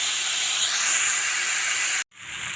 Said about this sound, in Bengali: ভালো করে একটু ভাজতে হবে, ভেজে নেব।